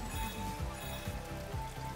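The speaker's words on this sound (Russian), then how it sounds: "Дождь прям ощущается вот по зонтику," Rain drumming on an umbrella in a PlayStation 5 video game, a steady dense patter with soft low thumps recurring at a regular rhythm, fairly faint.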